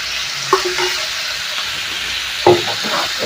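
Chopped chayote sautés in a hot pan for chutney with a constant sizzle, broken twice by louder scraping stirs of a spoon against the pan.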